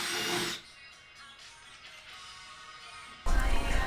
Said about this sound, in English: Now for the drilling.